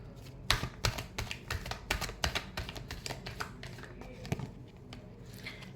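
Tarot cards being shuffled by hand, a rapid run of crisp close flicks and riffles that thins into softer scattered taps near the end.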